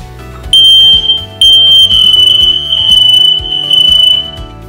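A household smoke detector, wired to house power with a fresh battery installed, blares a loud, piercing high-pitched alarm tone during a test. It starts in two short bursts, then holds as a steady shriek with a low background rumble underneath.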